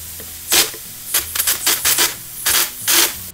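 A spray gun applies knockdown drywall texture in several short hissing bursts of under half a second each, loud and close, separated by brief quiet gaps.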